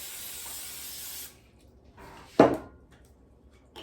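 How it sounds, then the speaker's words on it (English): A steady hiss of cooking spray coats a pan for about a second, then stops, followed by a single sharp knock of the pan being set down. "I'm going to spray my pan first here,"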